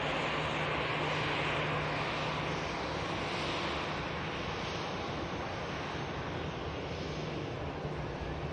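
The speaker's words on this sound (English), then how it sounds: "It's a TUI Dreamliner 787-8 Golf Tango Uniform India Charlie next to touchdown." A TUI Boeing 787-8 Dreamliner landing at Manchester Airport, a steady broadband jet roar held close and loud throughout, with no talk.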